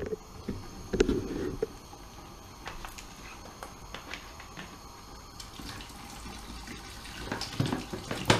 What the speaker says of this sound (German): Kommt noch ein bisschen Wasser rein.